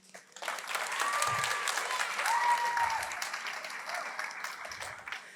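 Audience applause at a school arts night, a steady wash of clapping that swells and holds for several seconds at moderate distance, with a faint voice briefly over it.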